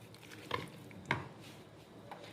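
Chicken pizza ingredients stirred in a pan with a spoon, a couple of distinct metallic scrapes and clinks against a soft background, close and moderately quiet, with no talking.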